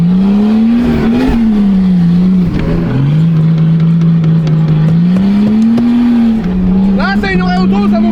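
A diesel car engine, started cold in a field, runs loud and close with a steady low drone that rises and dips slightly, while someone talks over it in French.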